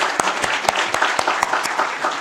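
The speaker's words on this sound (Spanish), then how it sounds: "yo quiero pedir para Matías y Bastián un aplauso" An audience at a citizenship education event bursts into applause, a dense steady wash of many hands with sharper individual claps standing out, close and loud with no speech over it.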